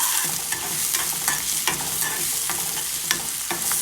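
Onion being sautéed and stirred in a pan for ragi uttapam, a steady close sizzle broken by repeated scraping stirs at an irregular rhythm, with no talking.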